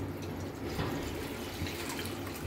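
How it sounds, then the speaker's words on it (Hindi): Water pours into a cooking pan for boiling rice, a steady, soft splashing and trickling stream that stays even and fairly quiet throughout, with no voices. "इसमें पानी ऐड करूँगी"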